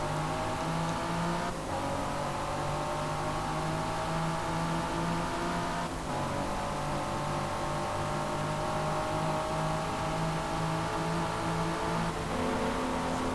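A race car with a V6 engine in Forza Motorsport 6 holds a loud, sustained high-revving drone that climbs steadily, with two or three brief dips at gear shifts. No one talks.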